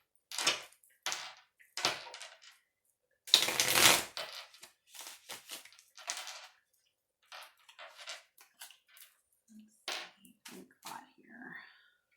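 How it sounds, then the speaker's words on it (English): Tarot cards are shuffled in short bursts of riffling and slapping, with a louder flurry near the middle and quiet gaps between, close to the microphone. "Just shuffle it again."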